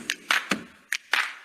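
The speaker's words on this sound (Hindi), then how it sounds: "दोस्तों तालियां बजाइए अचीवर्स के लिए" Several separate hand claps, brief and spaced apart, ring out fairly close for achievers at a digital success celebration, sparse rather than a full crowd ovation.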